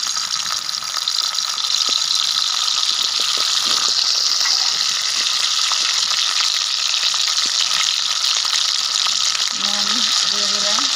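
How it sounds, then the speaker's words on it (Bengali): Dried lote fish frying in hot oil gives a loud, steady sizzle throughout, with a few faint clicks and soft utensil taps near the end. "মাছগুলো একটু ভেজে নেব।"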